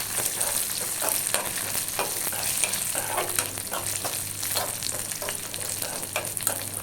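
Raisins frying in hot ghee for semiya payasam, a steady crackling sizzle with scattered pops and the scrape of occasional stirring, close and continuous throughout.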